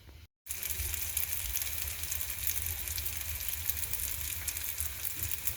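Pitha batter deep-frying in hot oil, a steady loud sizzle with constant crackling after a brief silent gap at the start, no voices.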